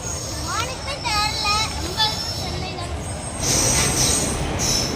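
A train pulls in at a railway station in India, wheels squealing in rising and falling tones over a continuous rumble, growing louder toward the end, with voices faintly in the background.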